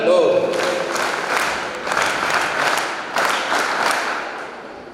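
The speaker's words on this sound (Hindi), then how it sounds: "सभी लोग सामूहिक रूप से ताली बजाएंगे" An audience at a school farewell ceremony in Jhansi breaks into applause, a dense, sustained clapping with a few louder surges, close and fairly loud, with no talk over it.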